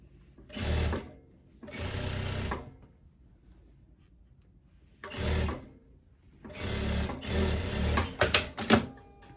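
Sewing machine stitching the neckline of a teddy jacket, running in four short bursts of rapid whirring separated by pauses, close and clear, with a few sharp mechanical clicks at the end and no talk.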